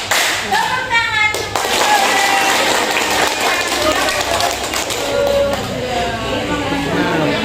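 Steady clapping from a group of people fills the room, dense and continuous, with a voice or two mixed into the noise.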